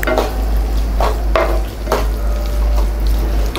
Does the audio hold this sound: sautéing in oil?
yes